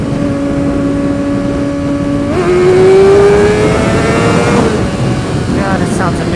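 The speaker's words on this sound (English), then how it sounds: "this exhaust is amazing. It's the shorty exhaust. It's called the Street Slayer." Kawasaki ZX6R motorcycle fitted with a Street Slayer shorty exhaust revving hard, a loud rising engine whine that climbs in pitch, shifts, and keeps pulling, heard up close with wind rush.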